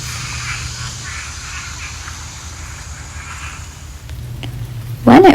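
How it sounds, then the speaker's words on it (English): Frogs croak in a rain-soaked Florida wildlife refuge, a soft, pulsing chorus over a low steady hum, ending with a louder, closer croak. "though our refuge is quieter, the frogs are still melodic"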